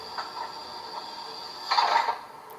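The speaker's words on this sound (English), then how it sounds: "And that's door closing." Door-closing effect from a Rapido Amtrak F40PH NPCU model locomotive's DCC sound decoder, a soft clatter that swells into a brief rattling thud over a low steady hum, faint and without talk.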